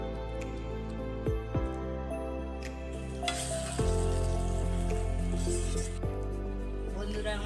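Fried idlis go into a hot pan for Bengali idli chilli with prawns, and a close, steady sizzle swells louder as they land, with some stirring noise.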